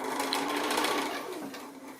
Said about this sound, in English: So I'll go ahead and sew this one together so that you can see the whole block